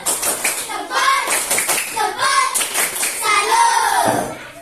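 Children clap together in a quick rhythmic pattern, with voices chanting along over the claps.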